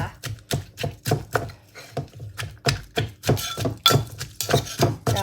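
Shrimp paste being pounded in a mortar for a Thai green mango salad: a steady run of about fifteen close, solid thuds at a brisk, even pace, with no talking.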